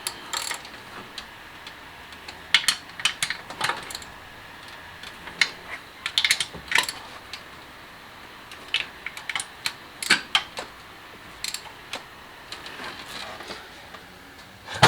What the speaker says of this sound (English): cylinder head's torqued down